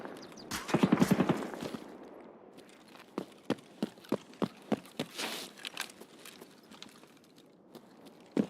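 Running footsteps in the Escape From Tarkov shooter, a burst of rapid heavy steps followed by a regular series of sharp, close thuds that fade into quieter scuffs.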